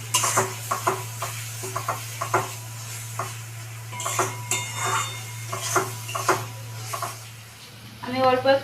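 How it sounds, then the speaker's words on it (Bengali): A spoon stirs salt, turmeric, chilli powder and Kashmiri chilli powder with a little water in a pan, giving repeated clinks and scrapes over a soft sizzle and a steady low hum, with a voice briefly at the end. "আমি অল্প একটু জল দিব, জল দিয়ে মশলাটাকে কষাবো।"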